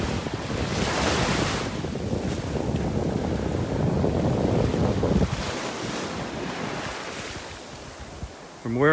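Waves wash steadily onto an eroding beach at North Naples, Florida, a loud sustained roar of surf mixed with heavy wind rumble on the microphone that drops away near the end.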